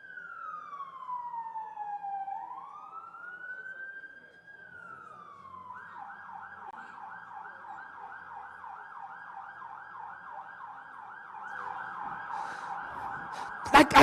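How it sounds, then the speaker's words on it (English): An emergency vehicle siren passes during an indoor workshop and expo, first a slow rising and falling wail, then a rapid warbling yelp that continues steadily, with a couple of sharp knocks at the very end. "Can we wait for this siren to"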